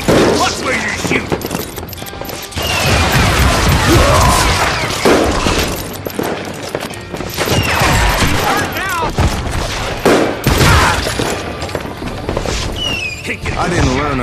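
Dense gunfire fills a Call of Juarez: Gunslinger shootout, with loud overlapping shots and booms racing through the whole stretch. Shouted voices break in here and there.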